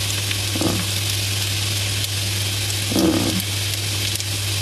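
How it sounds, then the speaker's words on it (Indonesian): Ingredients for bihun goreng, Malaysian fried rice vermicelli, sauté in a pan with a loud, continuous sizzle and a steady low hum, broken by two brief stirring scrapes. "Syah memang suka tumis lama sikit."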